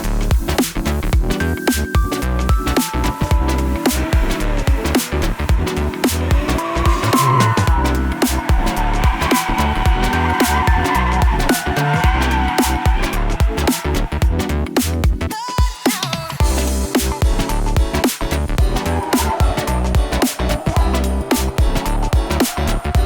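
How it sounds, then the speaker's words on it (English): A 2019 Toyota GR Supra drifts under heavy power. A loud, continuous engine roar mixes with tire squeal and harsh clipped bursts, briefly dipping near the middle before resuming. "as you can see, you have to feed a lot of power in order to sustain the drift, even while transferring."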